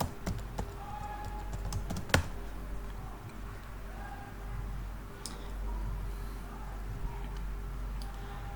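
Computer keyboard typing login credentials, a quick run of clicking keystrokes followed by sparser taps, close and moderately quiet over a low steady hum.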